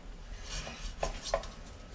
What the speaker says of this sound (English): Very easy to slice.